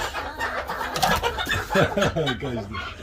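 A Gurk hen on a farm clucks and lets out loud, strained screeching calls in quick repeated bursts, close to the microphone, with a voice briefly audible nearby.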